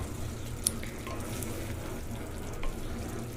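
Masala spice paste frying in oil for a spicy Punjabi chicken curry, a steady low sizzle with faint stirring scrapes and a couple of brief clinks, close and alone.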